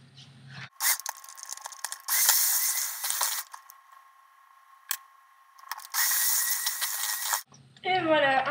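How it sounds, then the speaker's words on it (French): An electric hand mixer whirs in bursts through chocolate caramel cupcake batter, loud buzzing runs starting and stopping with short gaps, and someone talks briefly at the start and end. "Je vais faire ça avec un batteur électrique et puis ça va résoudre mon problème."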